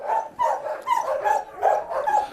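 A young East Siberian Laika hunting dog barks repeatedly at close range, a run of sharp, loud yelps and barks in an uneven rhythm with short whiny tones between them.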